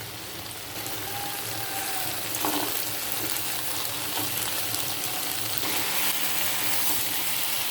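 Masoor lentils fry in a pan for a home-cooked Bengali lunch, giving a steady, dense sizzle that runs the whole time with soft stirring scrapes and no voices.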